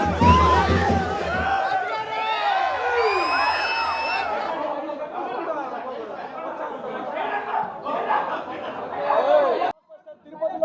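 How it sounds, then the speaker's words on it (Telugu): Crowd of film fans at a movie promotion event in Tirupati, shouting, whooping and cheering loudly in a dense roar of many voices, with high shrill cries rising above the din before it cuts off abruptly near the end. "ఈ అరుపులు, ఈ కేకలు, దీనికోసమే మేము సినిమా తీసింది"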